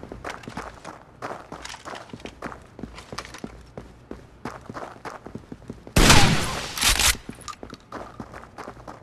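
Gunfire from the video game Rainbow Six Vegas: a steady patter of footsteps and soft thuds, then a loud, dense burst of rapid shots from about six to seven seconds.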